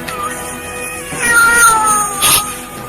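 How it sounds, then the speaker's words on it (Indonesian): A cat meows in a radio drama, giving several drawn-out, wavering meows up close over a faint background hum. "Kucing ini lagi."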